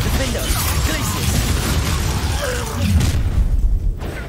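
Combat spell blasts such as Confringo from Hogwarts Legacy, a loud churning barrage of bursts and booms filling the clip, building near the end with sharper pops, and a voice over it.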